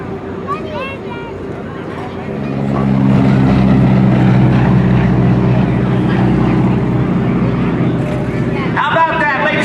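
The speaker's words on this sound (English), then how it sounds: "listen and see this airplane as it comes by. Again, the North American Texan aircraft" A North American Texan trainer aircraft, the Pilot Maker, roars past at an airshow, its droning propeller engine swelling loud and steady while a public-address announcer talks throughout.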